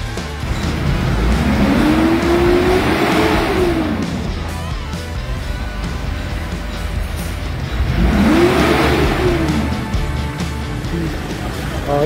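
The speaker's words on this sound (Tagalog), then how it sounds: "Yan din ang tunog ng makina." A Mitsubishi Pajero's 4M41 diesel engine, low on power, revs up twice, each rise climbing in pitch and then falling back, loud and close, with a steady rumble between the surges.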